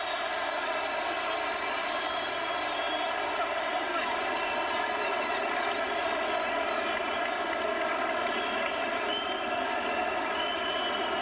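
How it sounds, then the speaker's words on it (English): A boxing crowd roars steadily on its feet as round 10 closes in a Felix Tito Trinidad vs Fernando Vargas fight, a dense continuous arena din under a commentator's voice. "the crowd is on its feet again"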